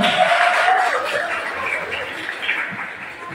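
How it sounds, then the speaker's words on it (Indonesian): A school audience applauds at a cooperative-themed quiz competition final, a steady wash of many hands clapping close by, holding for a few seconds before thinning slightly toward the end. "Kita kasih semangat dulu, tepuk tangan."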